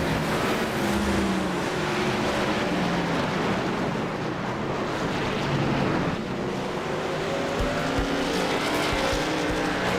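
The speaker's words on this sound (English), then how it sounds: "Just like that, you hear it, ladies and gentlemen. It is cars on track." NASCAR trucks race around Talladega in the iRacing simulator, with a dense, continuous engine roar from several vehicles, droning pitches rising and falling as they pass, loud and sustained with no talk.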